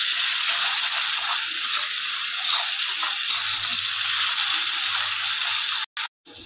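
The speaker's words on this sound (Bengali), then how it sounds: "দিয়ে এবার বরবটিগুলো ভাজা ভাজা করে নেবো।" Yardlong beans salted and frying in oil in a pan give off a steady, dense sizzling hiss that runs unbroken until it cuts out with a few abrupt drops near the end.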